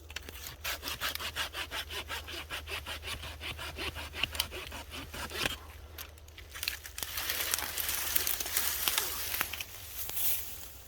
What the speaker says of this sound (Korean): 이 뒤에 있는 나무를 잘라줍니다.